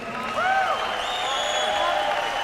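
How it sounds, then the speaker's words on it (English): Arena crowd at a UFC event cheering and applauding the welterweight champion, a loud continuous roar with whistles and shouts rising above it. "How about a nice round of applause, everybody?"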